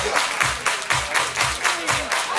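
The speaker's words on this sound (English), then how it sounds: "Everybody clap your hands." A crowd claps in a steady rhythm, about ten crisp beats in quick succession at a lively party or dance setting, with faint music underneath.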